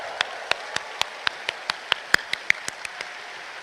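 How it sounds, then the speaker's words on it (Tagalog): Sharp, evenly spaced claps ring out about four or five per second, a congregation clapping rhythmically during a Catholic Mass in a quiet church, with no voices. "itaas uli ang kamay at pumalakpak ng mas malakas"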